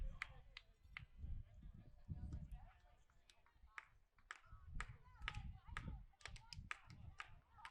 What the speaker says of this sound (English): The dugout's clapping. The crowd is clapping.